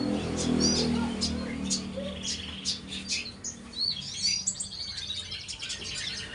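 Canaries chirp and tweet in a repeated series of bright, high calls, fairly close, over a low background hum and people talking in the clip.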